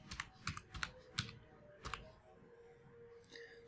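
Quiet typing on a computer keyboard into a search box, a handful of light separate keystrokes in an uneven rhythm, followed by a short pause and one last click.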